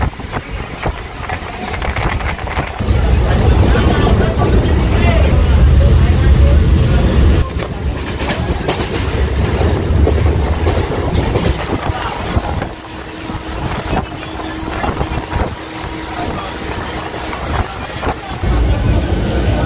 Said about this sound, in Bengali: 52 কিলোমিটার ট্রাভেল করে অলরেডি আমাদের এই ট্রেন এসে পৌঁছালো বর্ধমান রেলওয়ে জংশনে।